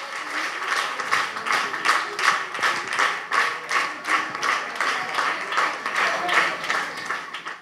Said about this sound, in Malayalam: നല്ലൊരു കയ്യടി കൊടുത്തേ സർപ്രൈസ് അതിഥികൾക്ക്